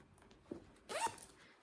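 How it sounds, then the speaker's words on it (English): A zipper on a baby's DMO suit is pulled open in one short rasping stroke, close and fairly quiet, after a faint tap. "then there's a back zipper."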